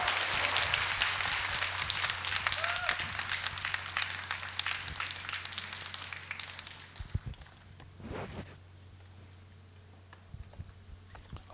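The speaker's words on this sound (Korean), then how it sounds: "뜨거운 박수로 모시겠습니다" Audience at a Catholic charismatic conference applauds to welcome a priest speaker and his interpreter, a dense burst of clapping that thins and fades away, ending in near quiet with a few scattered claps.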